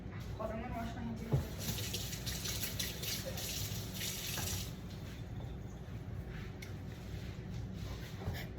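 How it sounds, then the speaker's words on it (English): Tap water running into a sink while hands are washed, a steady close gush for several seconds that eases toward the end, with a brief knock early on. "I'm gonna wash my hands"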